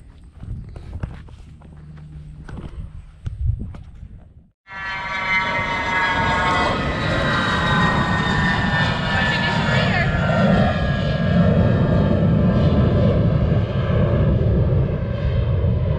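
A chrome-trimmed propeller airplane at a fly-in airshow in Thomasville, Georgia: after a few seconds of quieter sounds and background voices, the engine starts abruptly and runs loud, close and steady as a droning roar.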